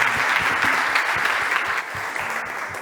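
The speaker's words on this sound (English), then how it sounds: "Good, convinced? Big applause to Daniel." An audience at an industry startup competition stage gives a round of loud, dense applause that softens slightly partway through, with a few faint voices underneath.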